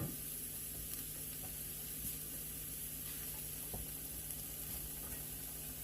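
Onions sweating over low heat in a pan for onion fritters, seasoned with salt and pepper, giving a soft, steady sizzle with a few faint crackles and no talk.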